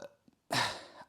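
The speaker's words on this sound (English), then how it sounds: "I'm burping." A single short burp from a person, loud and close, following a quiet breath or two.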